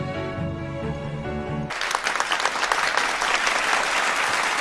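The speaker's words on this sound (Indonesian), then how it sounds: "Mendapat pujian dari sang ratu dan aplaus dari para tamu." Guests at a royal dinner break into applause after music fades, a dense burst of many hands clapping that rises and continues loudly until the end.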